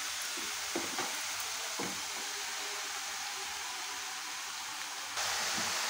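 Ridge gourd pieces fry with green chillies in hot oil in a pan, a steady close sizzle with a few scraping stir knocks early on, then the hiss brightens toward the end.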